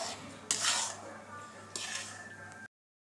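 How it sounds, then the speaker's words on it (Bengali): Metal spoon scraping and clinking against a pan while roasted semolina mixture for upma is stirred, two sharper bursts of scraping standing out over a soft background hum. "এই দেখুন এইভাবে ভালো করে নাড়াচাড়া করে মিক্সচারটা খুব ভালোভাবে যেন হয়।"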